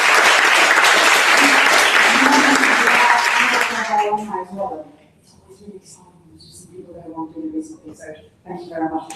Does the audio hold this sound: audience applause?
yes